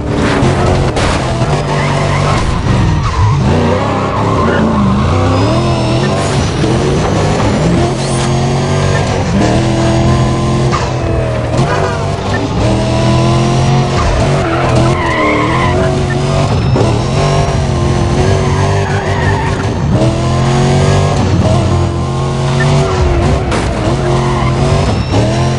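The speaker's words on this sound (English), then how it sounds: "Vehicle stolen from a Port Crescent neighborhood. Cars moving at a high speed." In Need for Speed Undercover, cars race at high speed through city streets during a police chase. Engines roar loudly and tires squeal and skid constantly and without a break.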